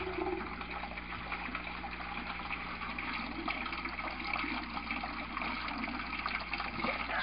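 An aquaponics water pump sputters and belches water in irregular surges rather than lifting it steadily, a continuous close gurgle and splash over a low hum, with no talking.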